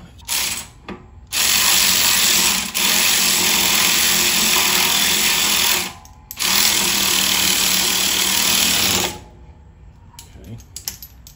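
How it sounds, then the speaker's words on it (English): An electric ratchet on the valve cover bolts of an LS-swapped G-body car whirs loudly and close in two long bursts of several seconds each, with brief clicks and handling noise between them. "I can get it back here on my electric ratchet."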